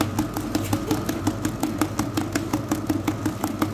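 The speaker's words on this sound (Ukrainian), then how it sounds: "коли збиваєш білок, він розмовляє. Чуєте цей звук?" A steady electric mixer whirs continuously with a rapid rhythmic pulsing, close by and fairly loud, as beaters whip egg whites in a bowl.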